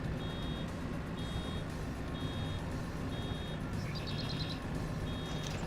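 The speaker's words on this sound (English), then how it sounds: "Somebody turn off that beeper." Reversing beeper from a vehicle in Farming Simulator 22, a steady repeating series of evenly spaced high electronic beeps over a constant low engine rumble, with no talking.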